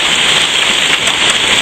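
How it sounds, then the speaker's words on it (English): Quarter-sized hail, some stones bigger, pours down on a yard during a storm, a dense, loud, continuous hiss of impacts with no pauses. "not quite golf ball size hail coming down"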